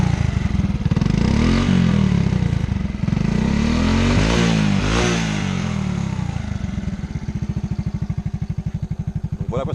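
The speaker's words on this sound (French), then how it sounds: "ce scooter là il est au point mort, donc je peux accélérer" A scooter engine revs up and down several times, whining and rising in pitch, before dropping back to a rhythmic idle, loud and nearby.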